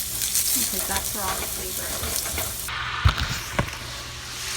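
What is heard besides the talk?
red wine vinegar sizzling in a hot baking dish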